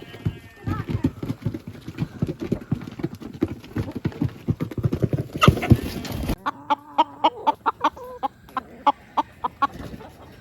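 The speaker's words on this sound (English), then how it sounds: "So there's 13 chickens, 2 roosters, and a duck." Thirteen chickens, two roosters and a duck, loaded up together, cluck in quick, rhythmic bursts, close by, with a rattling clatter and some talking mixed in during the first half.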